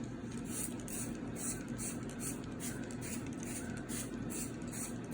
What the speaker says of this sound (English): So first I would just give it a